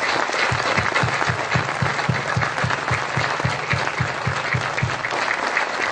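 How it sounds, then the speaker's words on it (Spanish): A congregation at a church gathering in Argentina claps loudly and steadily, a dense, sustained burst of applause with no voices standing out. "fuerte aplauso."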